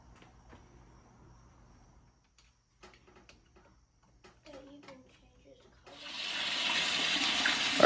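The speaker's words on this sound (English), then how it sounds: "adding a little bit of water to our drum" Water pours into a test drum while an old 1969 Johnson 9.5 hp outboard motor is serviced, beginning after quiet handling noises as a loud, steady rush of splashing and filling water that builds toward the end.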